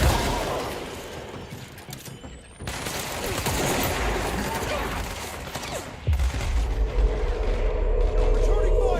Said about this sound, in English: Returning fire. Like a shooting gallery in here.